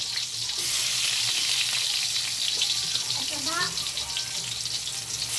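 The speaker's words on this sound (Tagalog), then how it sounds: "Mantika na mainit, bawang, sibuyas, tapos luya." Garlic, onion and ginger hitting hot oil in a pan for pork intestine adobo, a loud continuous close sizzle that holds steady throughout, with a voice speaking briefly over it.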